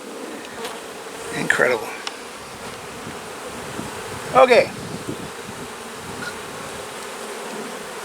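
Honeybees drone in a steady, dense buzz from an opened hive, with a few brief louder bursts as bees fly close, and a short spoken remark now and then.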